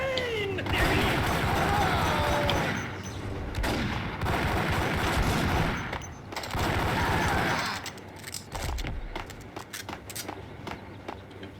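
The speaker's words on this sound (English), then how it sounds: "I was like shooting in the corner" Dense, sustained gunfire from the Max Payne shooter game, rapid bursts running nearly the whole span with brief lulls, loud and close, with faint game voices now and then.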